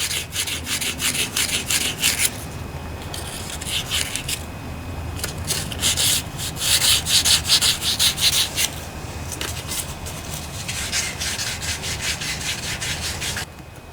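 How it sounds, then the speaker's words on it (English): Rolled sandpaper scrubs and rasps inside a rusty bearing bore of a vintage Briggs & Stratton riding lawnmower engine, a close, steady run of rapid back-and-forth abrasive strokes in bursts with brief pauses, no voices. "Poke that down inside the bearing. Clean it out, sand it out."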